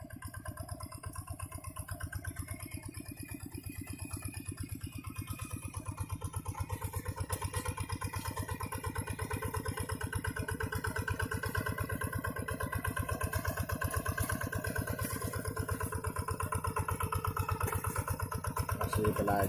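A hand tractor engine plowing a rice field runs steadily and close throughout, a continuous mid-pitched chugging drone with a clattering rhythm that grows slightly louder toward the end.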